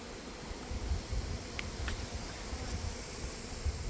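Honeybees buzzing during a fall hive inspection done without a smoker, a low continuous drone close by and fairly faint, with light rustling and a few small clicks.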